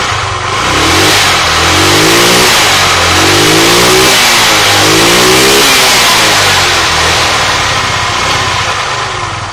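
A Daelim Delfino scooter engine is revved in a series of rising and falling throttle blips close to the recording, its mid-pitched motor note swelling three or four times above a steady idle, with no one speaking.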